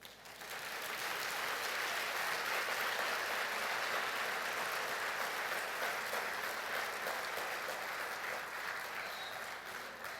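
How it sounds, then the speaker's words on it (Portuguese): A church congregation gives sustained applause during a sermon, a thick, even roar of many hands clapping that swells quickly and holds for about ten seconds. "Eu gostaria que você desse um aplauso a Jesus"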